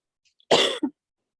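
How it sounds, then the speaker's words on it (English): A single harsh cough followed by a shorter second cough, close and fairly loud, then silence. "don't know why I'm coughing today."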